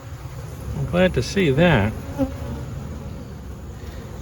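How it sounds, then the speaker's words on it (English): Honeybees buzz steadily on hive frames while a beekeeper checks their winter stores, the close, constant hum running under a brief spoken remark. "these guys are doing what bees are supposed to be doing"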